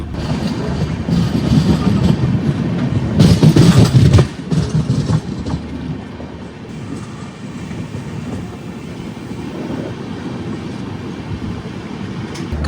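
The Kollam–Nanded Sabarimala Special train rumbles along the track with rhythmic clickety-clack of wheels over rail joints, loud and close from inside the carriage, with a louder burst early on before settling into a steadier roll.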